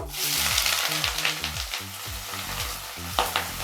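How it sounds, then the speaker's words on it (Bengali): Steady sizzling of chopped onions frying in hot oil, loud and close, with background music playing throughout. "পেঁয়াজটা খুব ভালো করে ভেজে নেব।"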